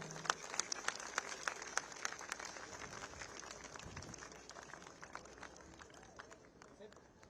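An audience at a Gandhi Smriti event near Rajghat claps to welcome a guest, a steady patter of many hands fading gradually, with voices talking underneath.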